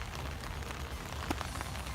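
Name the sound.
rain falling outside at night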